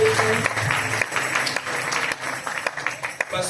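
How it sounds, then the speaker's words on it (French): A church congregation at a thanksgiving service applauds to encourage two pastors, with steady close clapping from many hands and a few voices and cheers mixed in. "Nous pouvons acclamer pour les encourager."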